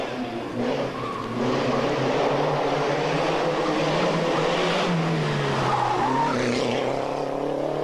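A Group N rally car's engine roars loudly while its tires skid and scrape as it goes off the road during a 1989 World Rally Championship event, a harsh continuous rush of noise that hardly lets up.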